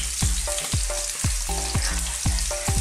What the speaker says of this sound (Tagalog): Ilalagay na po natin ang luya at garlic. Pakulayin lang po natin ang luya at ang bawang.